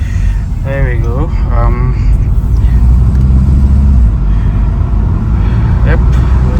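An Audi A3 1.8 TFSI with a DQ250 DSG gearbox cruises in fourth gear, giving a steady low engine and road drone inside the cabin while people talk over it.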